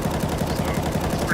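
Counter-Strike: Global Offensive rifle spray: a fast, even burst of automatic gunfire with shots packed tightly together, continuous and loud across the whole brief moment.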